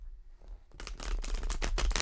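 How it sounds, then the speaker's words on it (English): A deck of playing cards being shuffled, starting after a quiet moment and then turning into a close, steady run of rapid riffling clicks and flutters. "I've already shuffled, but I want to do just a little bit"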